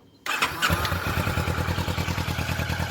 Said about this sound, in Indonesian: kita coba nyalain motornya, dan kita dengerin suara mesinnya